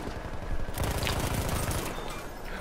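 Rapid automatic gunfire from a video game gun in a battlefield shooter match, a loud, dense burst of shots that fills the whole moment without voices.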